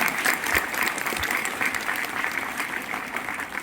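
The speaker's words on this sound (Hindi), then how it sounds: "ताली बजाने का मूड करे ना तो जोरदार ही बजाना" A seminar audience at an Enagic India sixth-anniversary event claps loudly and continuously, a dense, even wash of hands filling the room with no talking.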